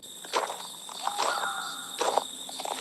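A man's footsteps on a path at night in the game Duskwood, a few distinct steps against a background of crickets and faint ambient tones.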